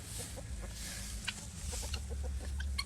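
Chickens cluck on a rural family farm in Brazil, a steady stream of short clucks and calls over a constant low background hum, with no talking.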